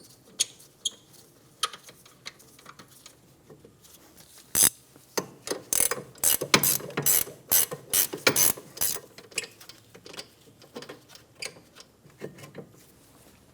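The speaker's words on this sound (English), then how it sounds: "Using a 19mm, loosen the caliper bracket bolts." A ratchet fitted with a 19mm socket loosens rear brake caliper bracket bolts on a 2003-2007 Infiniti G35, giving quick clicking bursts near the mic, sparse at first and then a dense run of pawl clicks.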